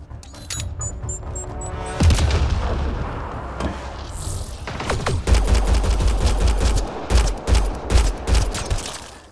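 Heavy gunfire in a shootout in Mass Effect: Andromeda: a dense fusillade of rapid shots and booming impacts, loud and close, with bursts rising and falling in intensity.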